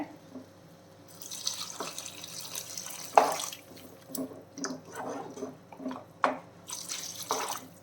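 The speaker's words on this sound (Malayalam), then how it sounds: "ഞാനിതിൽ ഒരു ഒന്നര കപ്പ് ചൂടുവെള്ളം ഒഴിച്ചു കൊടുക്കാം കേട്ടോ വേവിക്കാനായിട്ട്" Hot water is poured from a cup into a pot of breadfruit set to cook, giving an uneven splashing trickle with a few sharper splashes and drips, close and fairly quiet.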